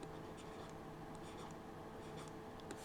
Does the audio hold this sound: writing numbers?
yes